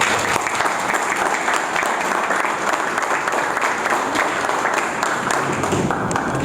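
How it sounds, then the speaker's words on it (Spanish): A live audience applauds the writer Rodolfo Ybarra at a presentation of his book, steady dense clapping from a crowd that fills the room loudly and continuously from start to finish. "Aplausos para Rodolfo"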